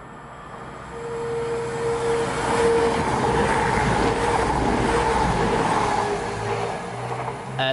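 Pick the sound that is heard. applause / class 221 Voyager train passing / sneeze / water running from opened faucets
class 221 Voyager train passing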